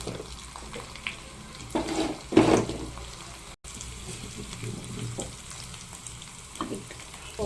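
Tempering with garlic sizzling in hot oil for a tomato, coriander and peanut chutney: a soft continuous frying crackle with a few louder spatters and stirring scrapes, alone without talk.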